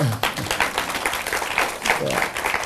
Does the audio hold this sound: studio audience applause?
yes